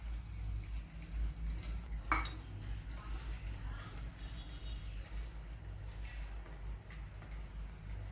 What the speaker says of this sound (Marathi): हा जो मुळा आहे हा आपण पाण्यातून धुवून काढत आहोत